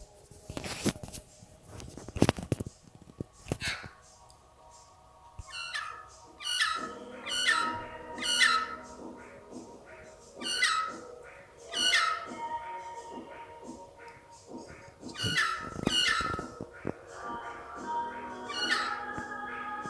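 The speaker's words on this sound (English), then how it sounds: "That's not the normal magpie call." A magpie repeats an odd electronic-sounding call, a run of sharp, buzzy bursts at a regular pace, fairly close outdoors, with some clattering noises near the start.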